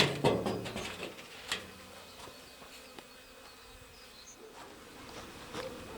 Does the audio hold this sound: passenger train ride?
no